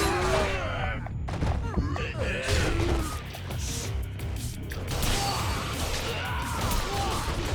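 Pistol gunfire in Yakuza 0 during a climax battle: several sharp shots and impacts ring out amid busy game noise and a voice, with a steady loud mix throughout.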